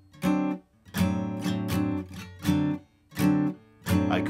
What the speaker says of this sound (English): everything can be muted with our left hand lifting off.